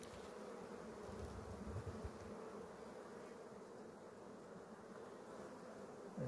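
Honeybees buzzing steadily over brood and empty combs in an open hive, a dense, continuous close drone with no voices.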